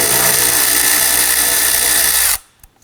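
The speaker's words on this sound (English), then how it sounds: "Using a 10mm socket, loosen and remove these screws." A power tool with a 10mm socket spins out bracket screws on a 2005-2009 Subaru Legacy during AC condenser replacement, a loud, steady, close whirring drone that cuts off abruptly, followed by a few faint clicks.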